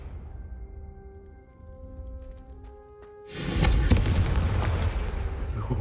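A Confringo fire spell explodes in Hogwarts Legacy, a sudden loud blast that erupts after a quiet musical passage and trails off into a long, roaring crackle.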